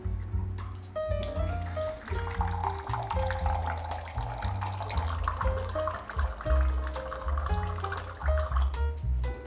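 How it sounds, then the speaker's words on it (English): A thin stream of water trickles from a novelty drink-pouring gadget, a light, continuous splashing with small drips under a low background hum. "It's like such a pathetic stream of water."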